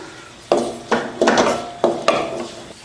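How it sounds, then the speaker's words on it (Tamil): Small shallots and a handful of coconut being dry-roasted in a pan for a curry base, five sharp spatula scrapes and knocks against the pan at a steady pace over a faint frying hiss, no speech. "வெங்காயம் தேங்காய் ரெண்டையும் நல்லா பொன்னிறமாக வறுத்துக்கலாம்"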